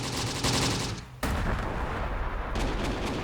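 Gunfire from a World War II battle in the Close Combat: The Bloody First strategy game, heavy, dense bursts of shots and artillery-like booms that pause briefly before rolling on continuously.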